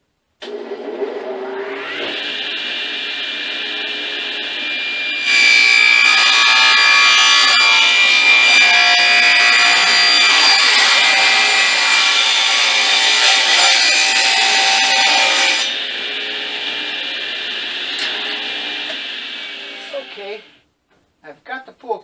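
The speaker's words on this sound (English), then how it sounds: "to cut the strips, I'll just set the blade close to the fence and feed the strip in two different directions." A radial arm saw rips wooden strips for a cane sword. The whine spins up and holds, grows louder and rougher for about ten seconds while the blade cuts, then eases back before spinning down to silence.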